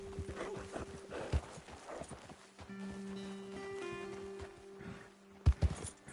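Horse hooves clip-clop steadily on the ground in the Western video game Red Dead Redemption 2, moderately close, over a low ambient music bed with a few heavier thumps near the end.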